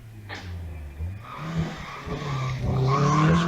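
A race car at the Wiscombe Park hill climb screeches its tires and revs as it crosses the finish line, the engine note climbing and growing louder and closer.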